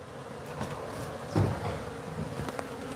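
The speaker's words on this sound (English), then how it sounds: "man, that's a lot of bees, Reed." A swarm of bees hums steadily and close around a beekeeper at a house soffit, with one brief bump partway through and no talking.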